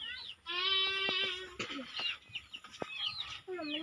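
Chickens cluck and squawk close by in a farmyard, with a rooster among them, the calls busy, irregular and overlapping.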